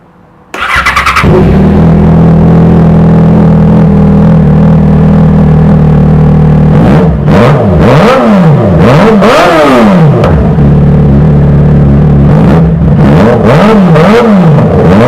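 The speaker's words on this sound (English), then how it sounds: "I'm going to now start the bike." A Yamaha FZ6R motorcycle with its factory exhaust fires up after a brief quiet moment and settles into a loud, close idle. It then gets several sharp revs in two bursts, with no talking.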